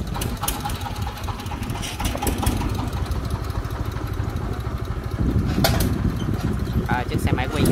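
A motorbike engine idles and runs with a steady mid-pitched putter while riding down a narrow alley under a bridge, close and fairly loud. There are scattered clicks and clatter from the street, and someone talks over it.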